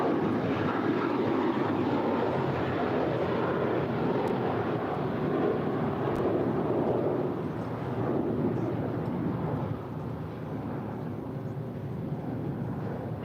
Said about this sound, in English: that was JetBlue 1374 departing Los Angeles for Newark